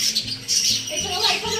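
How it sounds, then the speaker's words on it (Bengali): Birds squawk at a park bird exhibit, with several short harsh calls overlapping in quick succession, close by and moderately loud, amid faint background chatter. "এখানে পুরো পাখির প্রদর্শনী আছে। তো কি পাখি আছে দেখি।"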